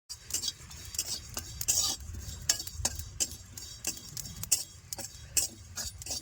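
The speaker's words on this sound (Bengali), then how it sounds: "কড়াই গরম হয়ে গেছে তাহলে আমি করে জিরা শুকনো খোলায় ভাজে নেবো" Cumin seeds are dry-roasted in a hot kadai without oil, giving quick scratchy stirring, light metallic clinks of a utensil against the pan and a faint crackle, close and irregular.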